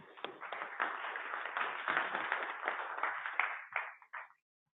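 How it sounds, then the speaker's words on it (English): Audience at a Python meetup applauds a speaker coming up, a band-limited burst of many hands clapping for about four seconds that tapers into a few final claps. "give him a round of applause"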